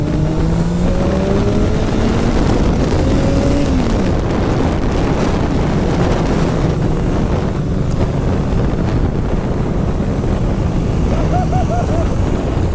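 A Ducati 1199 Panigale S motorcycle engine while riding, a loud steady rumble with rising and falling gear pitch, heavily buffeted by wind noise throughout.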